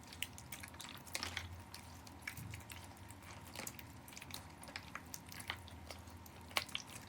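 Thick, borax-free slime is squeezed and kneaded in a cup of hot water, giving soft wet squishes and small drips in an irregular, close rhythm, quiet and without talk.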